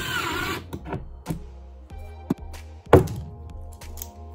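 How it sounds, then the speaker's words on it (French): Sparse hand-tool work on a door during replacement of its lower roller, as a screw is driven into a small cover cap and pliers pry it up: quiet, isolated thunks and clicks spaced a second or so apart, with one sharper knock near the end. "Je vais visser dedans. Et avec une pince, ça va me permettre de faire levier pour soulever ce petit cache."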